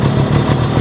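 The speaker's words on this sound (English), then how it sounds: "then you have to increase the RPM of this motorcycle" Yamaha RX motorcycle engine idling up close during carburetor air and idle screw tuning, a steady low loud rumble with no talk over it.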